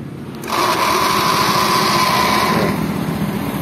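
A Honda C70 motorcycle engine starts by remote starter and settles into a steady, close, high-pitched idle that stays loud and even for a few seconds, with no talk.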